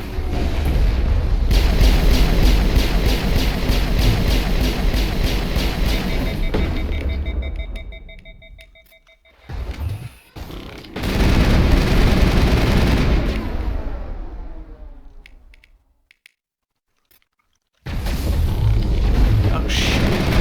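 Sustained automatic gunfire and heavy blasts from a Mass Effect firefight, loud and dense, breaking off into brief quiet before resuming in bursts.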